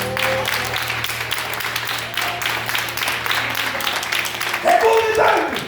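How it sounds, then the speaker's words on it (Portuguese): Church congregation applauding at a lively evening service, a broad steady wash of clapping with a low sustained tone underneath, swelling louder near the end as voices rise over it. "Então aplauda Ele nessa noite com toda a sua força"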